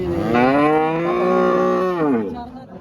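A cow at a cattle market in Vadod gives one long, loud, close moo lasting about two seconds, its pitch rising slightly then falling away, with faint market background and no talk over it.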